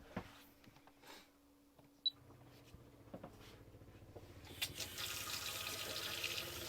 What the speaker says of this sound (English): You've got a pressurised flow of water, and I've got it on the hot there, and that water is red hot